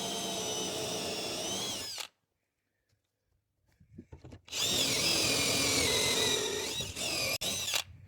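A power drill whines loudly while boring into steel plates, stops for a couple of seconds amid faint clinks, then grinds on again with a harsh, steady drone.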